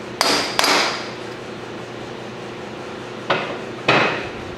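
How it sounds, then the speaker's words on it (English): Four sharp hammer whacks on a metal drill taper seating it into walnut wood, two quick ones, a pause, then two more, each ringing briefly; no talking. "Should put a whack or two on this first."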